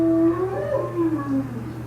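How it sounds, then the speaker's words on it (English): A dog howls and cries outdoors with a wavering, sliding tone that rises and falls steadily over a low constant hum, moderately distant. "Coda is barking outside."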